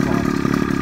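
An outboard motor runs steadily, a brief, loud, even engine drone with a rapid mechanical pulse.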